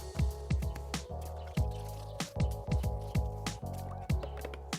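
Water drips and splashes irregularly from repaired wooden shutters with gapped slats as they are rinsed before repainting, with quick repeated drops falling close by over a steady background and no talking.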